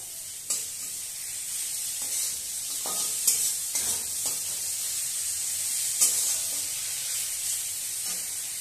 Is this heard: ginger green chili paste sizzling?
yes